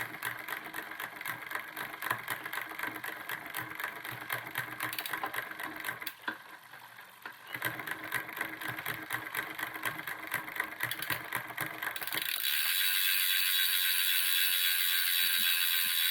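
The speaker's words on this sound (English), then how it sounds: "So if you watch what I'm doing, I'm just changing the gears." Shimano Di2 electronic gears on a bicycle shift repeatedly, with rapid mechanical ticking and whirring that pauses briefly and then resumes. The sound ends in a steady, brighter buzz.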